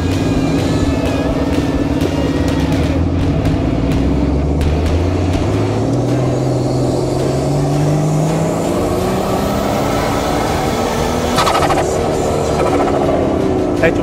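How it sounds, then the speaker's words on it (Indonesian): An off-road race car at a speed off-road championship round at the Cikembar circuit in Sukabumi, held in second gear at low RPM. The engine drones loudly and close, its pitch slowly climbing and falling, with a voice talking over it. "Saya cuma pakai gigi 2 aja, sepanjang jalan saya coba atur supaya RPM ini jangan terlalu tinggi."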